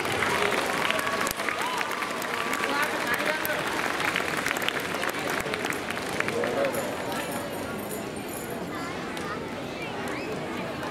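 An audience at a gymnastics award ceremony applauds in a long, dense, steady wash of clapping that stays loud throughout, with faint crowd murmur mixed in.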